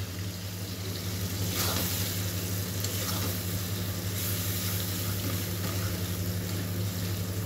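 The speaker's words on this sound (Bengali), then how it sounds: "এবার টমেটোগুলো একটু ভাজা ভাজা হোক," Tomatoes frying in a pan after a splash of water, a steady close sizzle and hiss with light stirring, continuous throughout.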